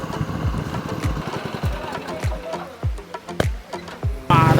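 A boat's engine chugs in a steady, rapid rhythm of low thumps nearby as it arrives at a waterfall in Yogyakarta, Indonesia, with water and outdoor noise around it.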